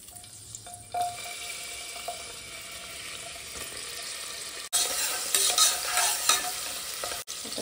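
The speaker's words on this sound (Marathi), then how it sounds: "मस्त तेल गरम केलं मी, आता याच्यात एक कांदा टाकते कट करून घेतलेला।" Chopped onion sizzling in hot oil as it is stirred, a steady broadband crackle that grows louder and busier after a few seconds, with brief clinks of the spoon.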